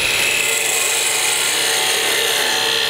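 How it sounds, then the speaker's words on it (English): Parting tool cutting into wood spinning on a wood lathe, a loud, continuous hissing scrape held steady throughout, close up with no speech. "I want to take a parting tool now, and again, almost like making a tenon, I want to come in here"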